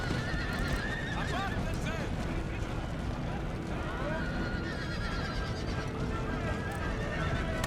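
Horses neigh and whinny repeatedly over rapid hoofbeats in an Empire: Total War battle, set against a dense, continuous wash of battlefield noise with speech-like voices mixed in.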